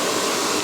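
A handheld hair blower dries hair at a salon during a rebonding treatment, giving a steady, loud, airy roar of rushing air with no breaks and no voices.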